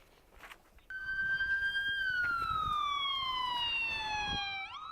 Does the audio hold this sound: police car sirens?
yes